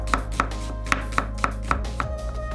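Seven crisp knife chops thinly slicing onions on a cutting board, evenly spaced and close up, with a steady low hum in the background.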